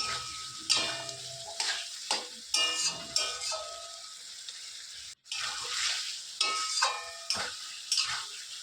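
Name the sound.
stirring chicken curry frying in a pot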